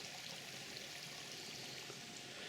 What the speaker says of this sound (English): You've got this nice little stream running down here with horrible brown water.